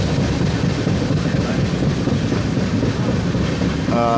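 Steady, loud rumble and rattle inside a moving Mumbai local train, with a constant droning hum throughout and no talking.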